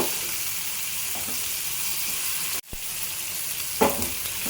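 Prawns sizzling in a pan with chili powder, a continuous close frying hiss with a brief dip partway through and a faint stir or scrape near the end, no voices.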